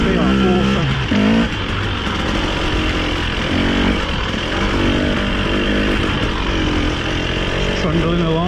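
A Husqvarna TE300i enduro motorcycle rides along off-road, its two-stroke engine droning loudly and steadily close by, with a rider's voice talking over it at times.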